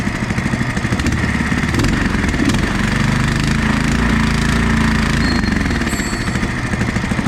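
A go-kart engine runs steadily at a fast, even idle, its loud, close, buzzing chug continuing without pause and with no voices.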